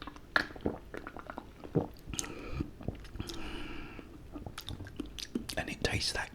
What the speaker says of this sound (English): Let's actually have a little swig.